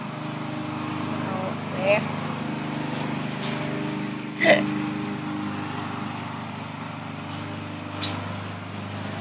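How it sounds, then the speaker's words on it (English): A lawn mower runs steadily in the background as a lawn is mowed outdoors, a constant engine drone beneath occasional speech nearby. "my husband do the mow the lawn here"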